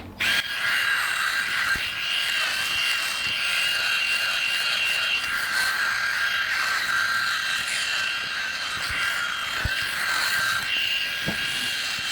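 Remington Virtually Indestructible electric shaver running in continuous close buzzing strokes with a steady motor whine, no talk.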